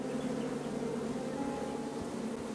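A beehive's steady insect buzzing in the video game King's Quest, a continuous droning hum that stays even and fairly loud throughout, with no pauses.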